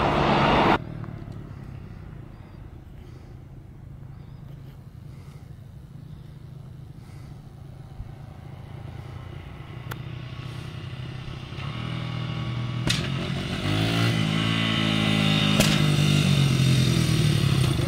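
A go-kart engine running in the woods, a steady droning motor that grows louder and rises in pitch toward the end as it revs or approaches, with a brief clatter at the start.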